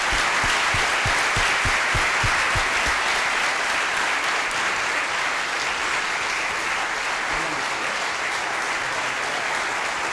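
Sustained audience applause follows a speech at a team talk, a dense, steady clapping wash that stays loud and continuous throughout, with no voices over it.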